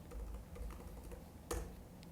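Fast bursts of typing on a computer keyboard during accounting software data entry, close and clear with a sharper clack near the end, no talking.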